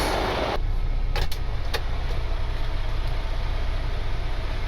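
A heavy truck pulling a dump truck trailer rumbles with a low steady engine drone, close up, joined by a few short mechanical clanks and a hiss early on.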